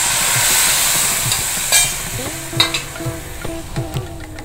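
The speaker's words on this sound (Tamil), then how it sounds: "கருவேப்பிலை சேர்த்துடலாம். புளி கரைசலையும் விட்டுடலாம்." Tamarind water poured into a hot pan with curry leaves: a loud steady sizzle and steaming hiss that gradually settles, with light scraping and clinks of stirring.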